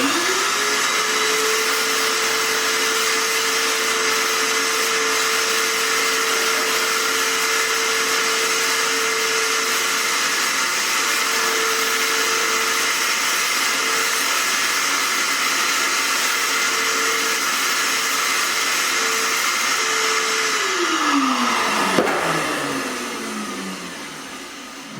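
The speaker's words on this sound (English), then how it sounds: "after I use the vacuum cleaner and clean it up as best I can" A vacuum cleaner cleaning up after tile work in a small barndominium shower build runs with a steady high whine for about twenty seconds, then powers down with a falling pitch, with no speech.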